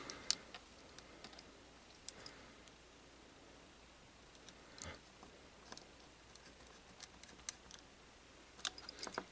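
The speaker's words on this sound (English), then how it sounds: "This makes for very interesting YouTube, screwing in screws." Screws being driven into a Hasbro Iron Man toy, faint irregular ticks, clicks and light plastic rustling scattered across a quiet background, close by with no talking.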